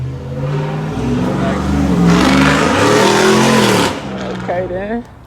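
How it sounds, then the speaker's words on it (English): A 1986 Monte Carlo SS small-block Chevy 350 V8 cranking over and revving, a loud steady mechanical drone with rising and falling engine tones for several seconds before easing off, with voices talking over it. "I had a little bro crank it up right now while I'm watching it."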